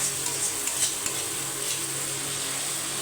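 Spice paste for chana paneer frying in hot oil in a pan, giving a soft, continuous sizzle with faint stirring, steady and fairly quiet with no voices.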